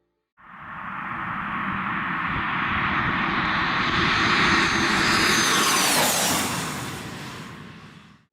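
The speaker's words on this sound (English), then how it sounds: "This Cessna executes a low pass at high speed, skimming extremely close to the ground." A Cessna light aircraft roars past in a high-speed low pass just above the ground, its engine swelling from a distance to a loud peak with a falling pitch sweep, then fading away, with no other sounds.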